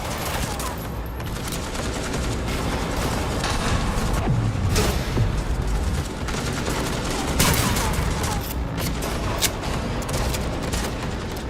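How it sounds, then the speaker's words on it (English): Rapid gunfire in Cyberpunk 2077, with ricochet shots bouncing off walls, crackling in dense bursts with louder hits scattered through the stretch, heard alone without speech. "This allows players to bounce bullets off walls and hit enemies hiding behind cover."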